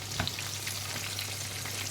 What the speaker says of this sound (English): as you can see here, they are frying